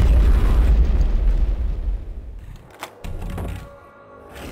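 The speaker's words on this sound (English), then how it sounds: "the sound of the explosions rumbles everywhere" Heavy booming explosions in the video game Shadow Warrior roll out with deep rumbling, loud at first and fading into lingering low rumble, with a few sharp cracks later.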